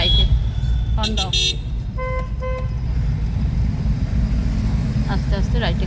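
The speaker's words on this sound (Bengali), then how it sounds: "রাইটে, আইল্যান্ড থেকে রাইটে হর্ন দাও" A car horn sounds during a driving lesson, with short toots close by over a steady engine rumble and road noise, then faint further beeps near the end.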